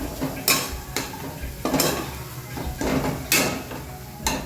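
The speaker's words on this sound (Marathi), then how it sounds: "आता ही मिरची चांगली परतून घेणार आहे" Metal spatula scrapes and stirs against a pan in repeated strokes, sautéing chilies in oil, with a low sizzle of frying underneath and occasional louder clanks.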